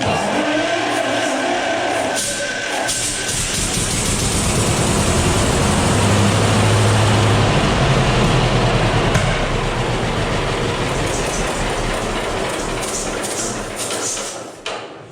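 John Deere power plant engine, shop-built, firing up and running: a broad, loud, rough roar swelling over several seconds, holding steady, then tapering toward the end, close to the listener without talk.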